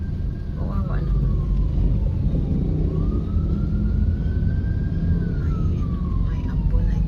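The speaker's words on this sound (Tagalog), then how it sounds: "May ambulansya." An ambulance siren wails and swoops in pitch at a distance, partly buried under a constant roar of heavy rain and passing traffic.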